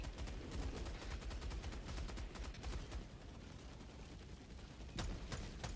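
A Gatling barrage strike rains down in Helldivers 2, a dense, rapid stream of gunfire rattling on without pause, heard somewhat distant and quiet, with a sharper burst of shots near the end.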